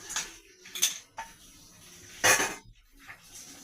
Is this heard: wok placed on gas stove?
yes